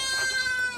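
A single goat bleats close by on a farm, giving one short, loud, wavering cry of about a second.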